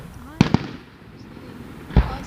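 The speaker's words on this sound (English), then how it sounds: "The fireworks are taller than the plane." Fireworks burst in the night sky, seen from the ground, with a pair of quick pops followed by a third, distant and moderately loud, while people talk in between.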